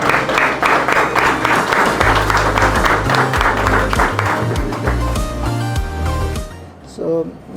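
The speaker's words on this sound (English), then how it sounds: "A big round of applause." Audience applause at the close of a coffee-talk session at a die casting industry tech forum, dense and steady clapping throughout with a low hum and music-like tones underneath, thinning out near the end.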